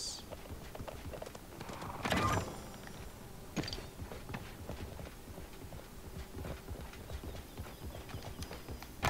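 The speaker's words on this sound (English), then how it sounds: "I can hear another horse." Horse hooves in the video game Realm Royale clip-clop lightly and irregularly at a distance, with a louder thud early on and faint ambient noise around them.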